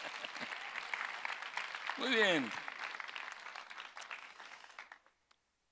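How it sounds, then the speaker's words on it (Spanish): A church congregation claps in a sustained round of applause after a recited poem, steady and moderately loud, with a short spoken remark over it before the clapping stops abruptly. "Un aplauso."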